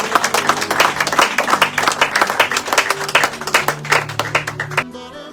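Worship congregation in a French-speaking Canadian church applauding and cheering, dense sustained clapping with crowd voices over music, loud and close, cutting off near the end.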